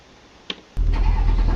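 A 2018 Lamborghini Aventador SVJ starts up in Euro Truck Simulator 2: a short click, then the engine catches abruptly and settles into a loud, deep, steady idle rumble close by.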